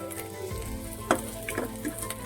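Curry leaves dropped into hot oil with green chillies for a banana flower thoran, a steady close sizzle with a few sharp crackling bursts and spatters as the leaves fry.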